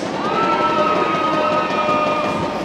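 A basketball crowd at a Super League championship game cheers for a player, a steady dense roar of voices with a whistle-like tone running through it.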